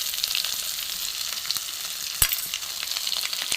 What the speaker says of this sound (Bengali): শুকনো লঙ্কা, তেজপাতা, গোটা জিরে, গোটা গরম মশলা আমি ফোড়ন দিয়ে দেবো